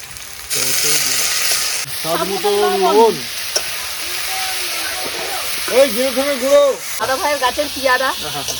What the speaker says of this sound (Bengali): কাঠের জালে কত ফ্রেশ দেখো পেঁয়াজটা টমেটো দিয়ে দিচ্ছি